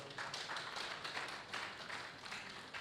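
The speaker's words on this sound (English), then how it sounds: "another round of applause" A hall audience at a safety professionals' stakeholder engagement in Nigeria applauds steadily, a continuous patter of many hands heard from some distance and fairly soft, with no voices over it.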